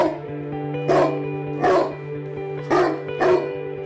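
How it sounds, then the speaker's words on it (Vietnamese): A dog in an animated folk tale barks four times in an even rhythm, sharp and close, over a steady low background hum with no talking. "Đừng đứng thập thò đấy, con chó nó cứ sủa hoài."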